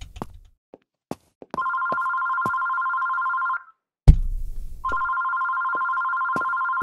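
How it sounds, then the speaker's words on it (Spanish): A telephone bell rings in the horror video game TERRORO, two long sustained ringing bursts separated by a short pause and a low thud, preceded by scattered footsteps and clicks. "Ay, el teléfono."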